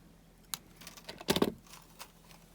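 Wire cutters snip jewelry weaving wire at close range, a few sharp clicks with one louder cluster of metallic snaps, faint and alone with quiet handling sounds around them.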